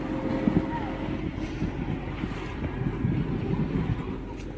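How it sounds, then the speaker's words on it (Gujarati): A houseboat on a lake in Kerala moves along with a low, steady engine drone and soft water wash, fairly quiet and continuous, with faint wind in the background. "હવે અમારી બોટ ચાલુ થઈ છે"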